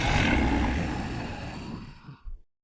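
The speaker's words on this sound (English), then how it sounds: "One that says Dino Hiss Dragon Roar." A dragon roar effect with a hissing dinosaur character, a loud breathy broadband roar that gradually weakens, ending with a brief final grunt before cutting to silence.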